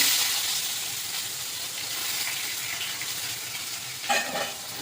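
Onion frying in oil with whole spices, a steady close sizzle and hiss that eases off slightly, then a brief louder crackle burst near the end, no voices.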